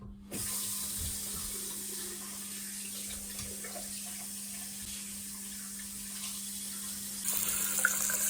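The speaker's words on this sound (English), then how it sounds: "Run the hot water down the pipes and make sure that it's fully done." Hot water runs steadily from a sink tap and drains down a freshly reattached trap after a blockage, a continuous close splashing wash with a faint hum, alone and even throughout.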